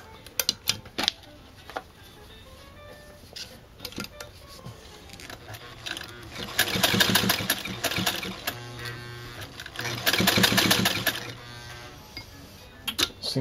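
A Singer 99K sewing machine stitches through leather in bursts of steady, close mechanical whirring and needle clatter, swelling louder in two longer runs with brief pauses between.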